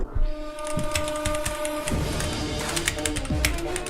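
Rapid keyboard typing during a head-to-head speed test, a dense stream of close, crisp clicks and taps running steadily throughout with a few heavier key strikes.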